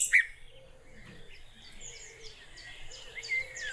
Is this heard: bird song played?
yes